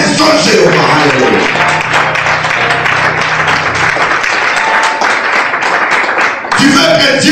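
A church congregation applauding during a sermon, loud and continuous clapping and crowd noise filling the space, with voices mixed in throughout.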